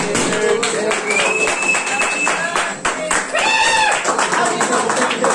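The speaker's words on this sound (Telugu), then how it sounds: "అందరూ చప్పట్లు కొడుతున్నారు" Guests clap at a birthday party as the cake is cut, a dense patter of hand claps running steadily throughout amid busy crowd noise and chatter.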